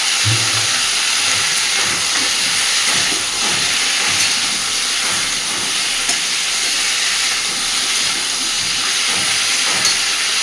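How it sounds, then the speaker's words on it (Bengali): Pumpkin and potato pieces fry in oil for a vegetarian milk-pumpkin dish, producing a loud, unbroken hiss that stays even from start to finish without any talking. "খুব ভালোভাবে এবার কুমড়ো আর আলুটাকে একটু ভাজতে থাকবে।"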